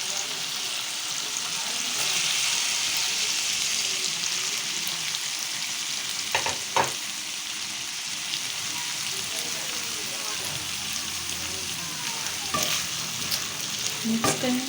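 Chana dal being stirred as it fries in a pan with mashed tomatoes, a steady close sizzle with scraping spoon strokes and a few sharper clinks, running continuously without talk.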